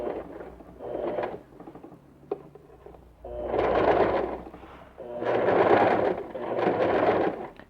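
A sewing machine stitches a men's backpack lining in several short bursts of rhythmic whirring, separated by brief pauses and light handling sounds, close by with no voices.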